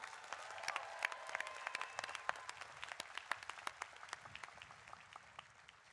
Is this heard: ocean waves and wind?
no